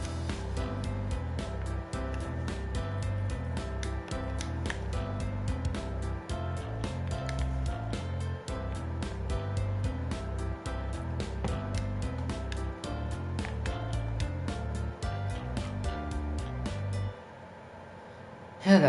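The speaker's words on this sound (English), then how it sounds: "I'll just play an open hi-hat and then just regular hi-hat strokes from there, which are playing every 8th note" Programmed beat made in the PS4 game Dreams: an open hi-hat followed by steady eighth-note hi-hat strokes over major 7th arpeggios and a low bass line, loud and continuous, cutting out near the end.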